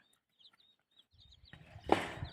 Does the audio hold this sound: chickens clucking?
yes